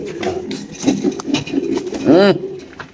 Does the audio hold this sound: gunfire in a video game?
no